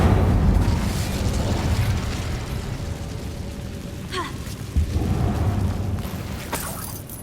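Incendio fire spell cast in Hogwarts Legacy inside a closed mine, a roaring, crackling burst of flame that swells loudly, then a thud and a second flare near the end, with no voices.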